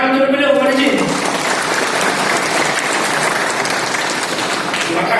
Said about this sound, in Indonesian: Tepuk tangan untuk beliau, Pak Haji.